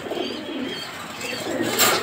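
A racer pigeon coos softly amid low, hissy background noise, with a brief brighter rustle near the end and no voices.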